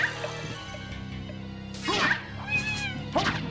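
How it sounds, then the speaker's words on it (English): A cat in Castlevania: Symphony of the Night gives a few short, high meows and mews over a soft game background, spaced out and moderately loud. "She turned into a cat!"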